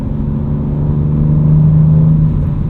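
A powerful BMW S58 engine in a 2025 BMW M2 with a six-speed manual rumbles deep and loud, rising in a steady rev with a low droning growl, heard up close.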